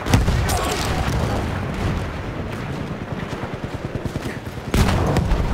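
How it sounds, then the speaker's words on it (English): A bomb explosion in Battlefield 1 on the Sinai Desert map: heavy booming blasts at the start and again near the end, over a dense rumble of gunfire and battle noise, with faint voices underneath. "Bomba atıyorum."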